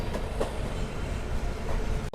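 Passenger train on the New Delhi–Chennai run approaching Gudur rolls along the rails with a dense, continuous rumble and rattle, ending in a sharp clunk.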